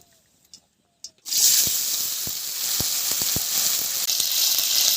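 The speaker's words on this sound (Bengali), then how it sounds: "এখন ফুলকপিটা ভেজে নেব।" Cauliflower dropped into hot oil in a pan bursts into a loud, steady sizzle after a second of near silence, with a few sharp crackles and pops scattered through the continuous frying hiss.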